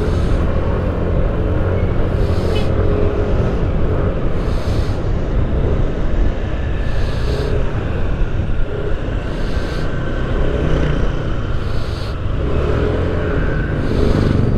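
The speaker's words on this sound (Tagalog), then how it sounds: "Pero may pasok na uli ngayon, kaya nagta-traffic na uli dito sa area." Steady road traffic of cars and motorcycles in a busy area, a continuous close rumble with engines passing and revving one after another throughout.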